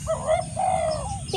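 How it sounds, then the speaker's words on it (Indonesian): Spotted dove calling outdoors, two soft, close cooing phrases in a row over faint background noise. "Burung terkukur."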